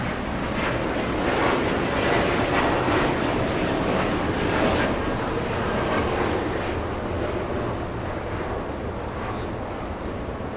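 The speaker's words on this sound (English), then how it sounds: "go back to Qatar doing the go around" A Qatar Airways airliner goes around over the north runways at Los Angeles International Airport, a broad, steady jet roar that stays loud and even throughout with no voices.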